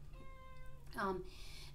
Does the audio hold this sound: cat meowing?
yes